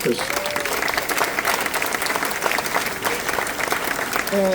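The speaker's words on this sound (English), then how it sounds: "Give them a round of applause, please." A crowd applauds at a mayor's reelection campaign announcement in Pawtucket, with steady, dense clapping throughout and a few brief voices and whoops in the background.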